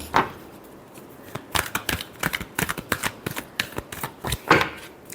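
Tarot cards being shuffled by hand, a dense run of crisp riffling flutters and soft slaps, close and steady for several seconds with no talking.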